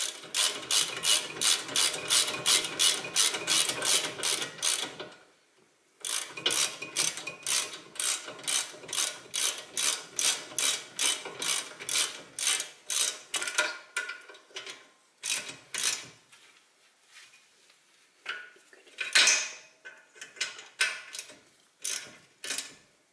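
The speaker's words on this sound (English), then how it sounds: "we're going to take a ratchet, the one that we used to loosen it, 18mm, flip it to the clockwise direction, and we're going to tighten this up" 18mm ratchet tightening a front brake caliper bolt on a Mercedes-Benz W203 C-Class, rapid close clicking in long steady runs, broken by brief pauses and a few shorter bursts.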